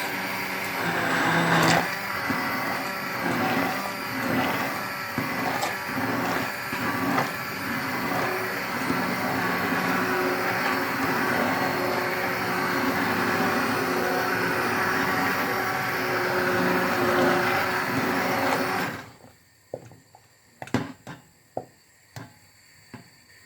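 Blender whirs continuously and loudly while blending broccoli soup with a glass of milk, close up, for about nineteen seconds, then cuts off, leaving a few clinks and knocks.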